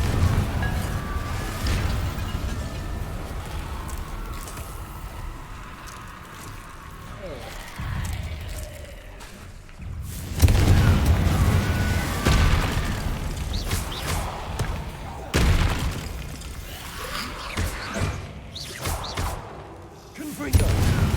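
Confringo fire spells burst repeatedly during Hogwarts Legacy combat, heavy booming blasts with whooshing thuds landing amid constant battle noise and spoken voices.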